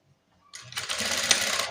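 Near silence, then a sewing machine starts up and runs at a steady buzzing whir while stitching a nurse uniform pant, close by and with no voices.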